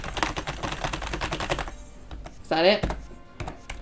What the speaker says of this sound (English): I just pressed my, like, 30 keyboard buttons on my keyboard.